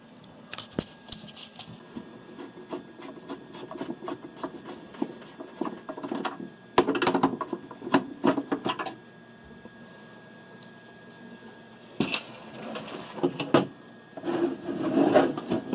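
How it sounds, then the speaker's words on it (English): Screws being removed from the bottom of a Commodore 1541 disk drive, with close intermittent scraping, rubbing and handling noises in bursts separated by quieter stretches. "we're going to flip this over and remove 4 screws on the bottom here"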